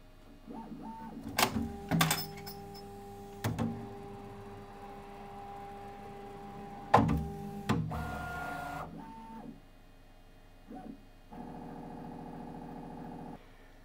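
A Bambu Lab X1 Carbon 3D printer runs its homing routine: sharp mechanical clunks and thuds, whirring stepper-motor tones that rise and fall, then a steady electronic hum near the end, close and alone with no talk.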